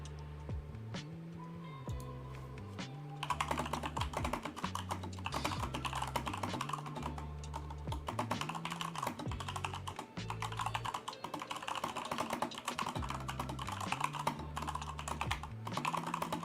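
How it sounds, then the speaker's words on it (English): Fast, loud typing on a computer keyboard during a live stock trading session, a dense stream of clicking keystrokes close to the microphone over a low steady tonal background hum, with no talking. "sorry for the loud typing"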